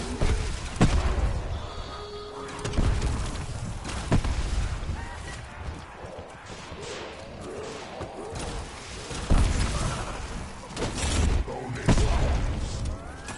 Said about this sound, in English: I've long become numb to the sound of explosions.